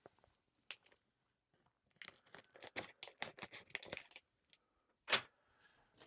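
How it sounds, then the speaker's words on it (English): Scissors cut and snip through the packaging of a Test Circuit Pro unit, giving faint irregular crunching snips and tearing clusters with quiet pauses between them, close up and without talk. "I'm going to use a pair of scissors."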